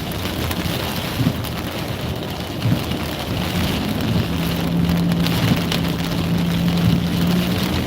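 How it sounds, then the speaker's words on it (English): Steady rain drums on a vehicle during a tornado-warned storm on a live drive, with faint low rumbles that may be thunder and a droning engine tone in the latter half; no talking. "We're still on the back end of the storm"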